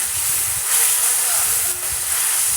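Water added to a hot pan of bottle gourd (lau) with prawns, cumin, ginger paste and turmeric, giving a steady broad hiss that fades and swells across the short moment with no talk.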